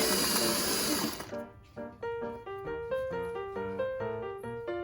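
A sewing machine stitches a zipper into fabric, starting with a noisy burst, then settling into a close, rhythmic run of mechanical stitches.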